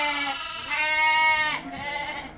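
A lamb bleats repeatedly in a barn, its cries strong and close, harmonic and wavering, with a louder, higher call in the middle before the sound tapers off.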